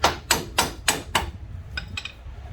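Five sharp, evenly spaced hammer taps on the front strut of a 2006 Honda Accord 3.0L, loud and close, followed by a few fainter metallic clicks, with no talk.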